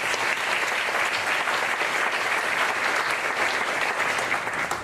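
Audience at a Federal Executive Board employee awards keynote applauding federal employees, a dense, sustained wash of clapping from a large crowd, loud and even throughout.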